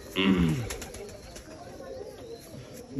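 A rare Dumchir pigeon with an unusual tail gives a brief coo near the start, followed by quiet background noise with little else.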